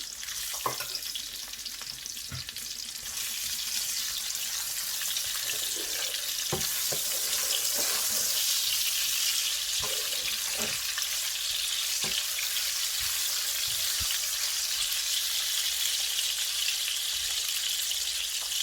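Onions fry in palm oil in a pan while cooking Nigerian egusi soup, giving a loud, steady hiss and sizzle throughout with a few faint clinks and stirring sounds.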